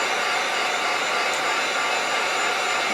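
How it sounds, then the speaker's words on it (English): A heat gun blows a steady, loud, even hiss of air while drying paint on a Manns deep diver fishing lure, continuous and unbroken throughout with no talking. "so take the heat gun, dry that just a bit"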